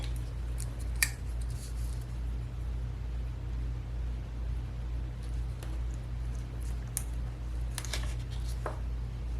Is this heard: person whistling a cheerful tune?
no